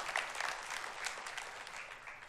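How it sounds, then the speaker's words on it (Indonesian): Church congregation applauding together during a sermon, a steady wash of many hands clapping at a moderate distance, sustained evenly throughout. "Kita berikan tepuk tangan buat Tuhan Yesus."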